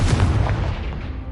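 Blasting spell explosion in the Hogwarts Legacy video game, a single deep booming burst with a rumbling tail that fades over about a second, heard alone.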